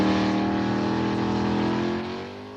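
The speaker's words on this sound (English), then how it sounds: "Smoking tires idling at the starting line, ready and waiting to launch" Race car engines rumble steadily at idle on the starting line with a deep, loud drone that eases slightly toward the end, with no speech.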